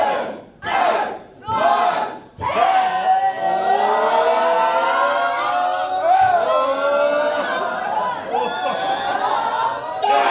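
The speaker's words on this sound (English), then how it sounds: "Listen to the crowd." A wrestling crowd at an Australian indoor show roars and cheers, with a few sharp shouted bursts at first and then a long sustained wall of yelling voices, loud and close.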